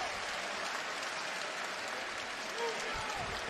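Sustained applause from a basketball arena crowd for the injured Giannis Antetokounmpo, broad and steady clapping throughout, with a slight swell near the end and some murmured crowd voices underneath.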